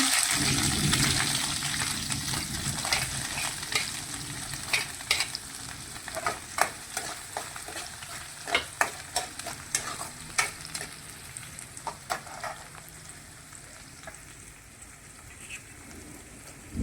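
Onions with turmeric frying and being stirred in a pan, a steady sizzle with repeated sharp scraping and clinking strokes of a spoon throughout, close and moderately loud, no talking.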